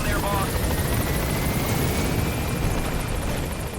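Helicopter rotor chop from the video game Metal Gear Solid 5, a steady, loud, continuous whirring drone that holds evenly throughout, with someone talking over it.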